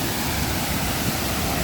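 Water pours and crashes down over rocks at Ariyil Waterfalls, a hidden cascade in Kannur, as a steady, dense, broadband rush that holds constant throughout with no voices over it.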